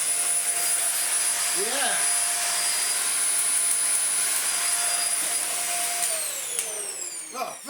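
A Dyson UP15 upright vacuum cleaner's motor runs with a loud steady whine and airy roar, then spins down with a falling pitch near the end, as a voice briefly speaks over it.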